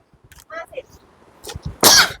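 A single cough bursts out near the end of a short stretch, preceded by faint throat noises and brief bits of speech.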